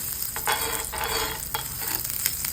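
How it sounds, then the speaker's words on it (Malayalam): Butter and olive oil sizzle in a hot iron pan over high flame, a continuous bright hiss with rhythmic stirring swooshes every half second or so, close and unaccompanied by voices. "ഞാനൊരു ഇരുമ്പിൻ്റെ ചട്ടി വെച്ചിട്ടുണ്ട്. അതിലേക്ക് കുറച്ച് ബട്ടർ, കുറച്ച് ഒലീവ് ഓയിലും കൂടി ചേർക്കാം"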